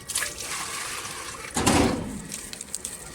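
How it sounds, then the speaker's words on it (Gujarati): Water is poured from a container onto a wilted household plant, giving a soft trickle that swells into a brief, closer splash midway and then fades to light drips. "ચાલો ત્યાં પાણી નાખી દઈએ."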